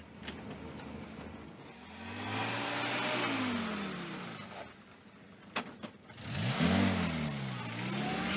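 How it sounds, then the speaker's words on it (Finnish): A tank drives through a gate with a loud revving engine roar that rises, dips and surges again, alongside a few sharp cracks and knocks. "Taas tankkelit ajaa tankilla läpi portin!"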